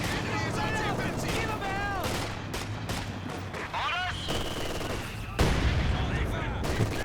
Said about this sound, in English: Good damage from the heavy mortar.